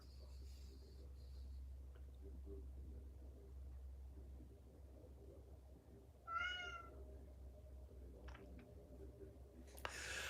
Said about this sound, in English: That's one of my kitty cats.